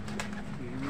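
Racing pigeons in a loft give soft, low cooing that runs steadily under a brief, sharper bird call, close and continuous over a short moment with no talk.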